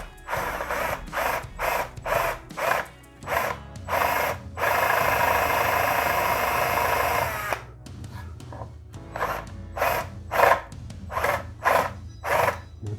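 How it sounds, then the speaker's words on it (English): A power drill with a step drill bit opens out holes in short repeated bursts, then one long continuous run of grinding, then more rhythmic short bursts, close up with no talking. "I'm just going to use a step drill"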